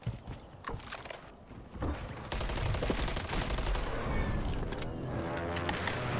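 Gunfire in a video game shooter, with bursts of rapid shots and clattering mechanical sounds over a busy, noisy mix, close and fairly loud.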